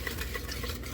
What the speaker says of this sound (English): I just use this little wicker thing and mix it up.